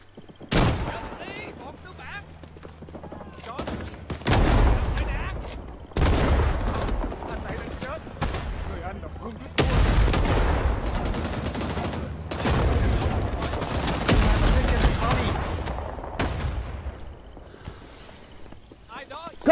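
Close PPSh submachine gun fire in Rising Storm 2 combat, as repeated loud automatic bursts with heavy booms and footsteps, while players talk over the shooting.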